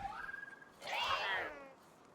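The Fellbat boss in the video game Palworld lets out an angry, cat-like cry: a rising, whining wail that swells into a harsh, screeching yowl and then fades out, heard alone.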